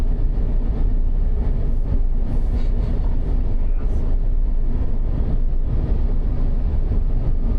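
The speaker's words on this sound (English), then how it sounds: "There's a lot of wind noise." A loud, steady rushing roar of wind fills the cabin of a moving Tesla Cybertruck electric pickup, with deep road rumble underneath and no break throughout.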